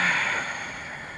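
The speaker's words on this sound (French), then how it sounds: "Et expire totalement." A person exhales fully during an energetic breathwork session, a long, breathy outward rush of air that is loudest at the start and slowly fades, close and alone.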